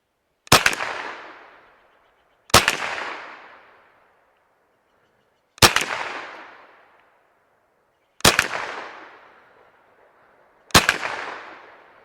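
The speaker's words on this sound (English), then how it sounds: "we have 5 rounds of CCI Blazer, and we're shooting the target on the left" Five separate shots from a .22LR rifle firing CCI Blazer rounds, each a sharp crack with a short echoing tail, spaced about two to three seconds apart outdoors.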